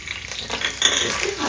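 Crushed cloves, cardamom and bay leaves stirred into ghee in a pan for vegetable pulao, a brief close burst of frying sizzle with scraping stir noises.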